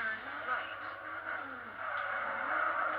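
A car drifting in a video game gives a continuous engine drone with a wavering tire-skid hiss, moderately loud and steady for a few seconds.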